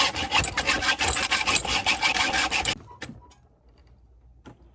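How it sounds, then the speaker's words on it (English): A hacksaw cuts through a kiteboarding harness leash clip with quick, rough rasping strokes, loud and close for nearly three seconds, then stops, leaving a couple of faint knocks in near silence. "I'm just going to hacksaw it right there"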